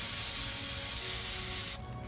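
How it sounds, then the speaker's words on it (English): A spray can lays a light coat of gold glitter paint onto a basket, giving a steady, close hiss that runs unbroken for almost two seconds and then cuts off abruptly. "I'm spraying one more coat of light glitter on"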